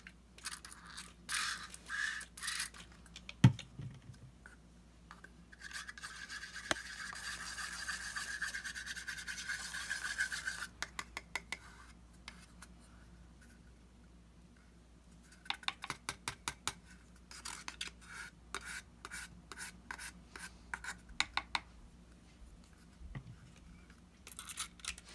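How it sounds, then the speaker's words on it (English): Mica powder is stirred into rubbing alcohol in a small container, giving soft scraping and rubbing strokes and bursts of quick clicking taps against the sides, with quiet pauses between and no talking. "I'm going to use some rubbing alcohol to mix this up"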